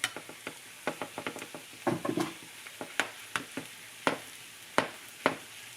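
Chorizo frying in oil in a pan for empanadas, a soft close sizzle punctuated by repeated sharp scrapes and clacks of a utensil stirring and breaking it up, no talking.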